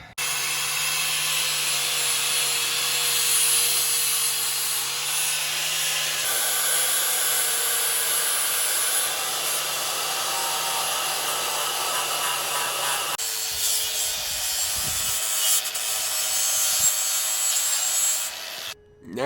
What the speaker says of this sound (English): We're going to grind off the coating on the Rock Krawler parts and the frame